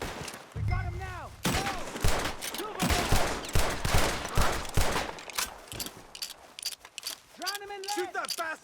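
Rapid gunfire crackles through a shootout in Red Dead Redemption 2, shots firing in quick bursts and volleys while people shout over them and horse whinnies rise at the start and end.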